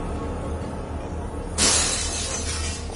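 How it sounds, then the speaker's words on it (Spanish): Glass shatters loudly and abruptly, and the crash trails off in a scatter of falling shards over a low steady hum in a quiet room. "Oí ruido de cristales rotos."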